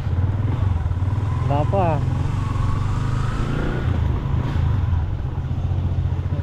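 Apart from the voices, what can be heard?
motorcycle being readied for a ride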